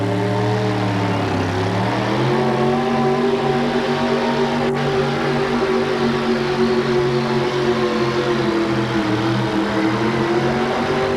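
A pulling truck's engine roars continuously at a 1988 USHRA tractor and truck pull in Kansas City, its loud droning tone dipping briefly and then holding steady under strain.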